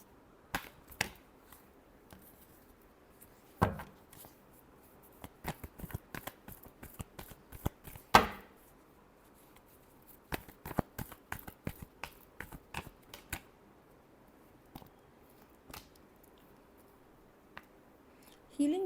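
Tarot cards are shuffled close by in quiet, irregular bursts of crisp riffling snaps and taps, with gaps of near silence between them and one louder riffle in the middle.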